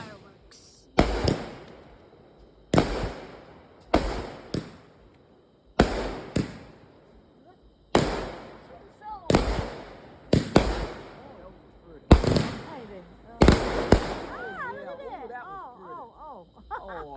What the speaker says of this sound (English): No, these are Mario fireworks.